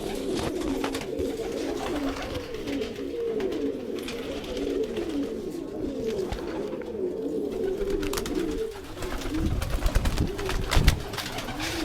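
A flock of pigeons coos steadily and close by while pecking at grain set out in a tray, soft overlapping throaty calls throughout with rustling and light tapping, louder near the end.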